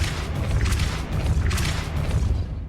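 A Depulso spell cast in Hogwarts Legacy lands as a heavy, booming magical whoosh, two swelling pulses over a deep continuous rumble that fades out at the end.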